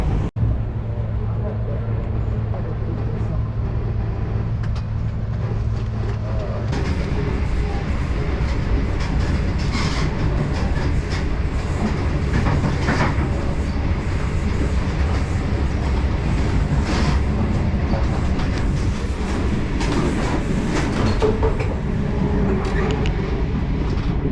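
A passenger train travels the rails on a long overnight journey into Sydney, a constant loud rumble and roar of the carriage heard from inside with a low hum, faint clicking and a few brief voices underneath.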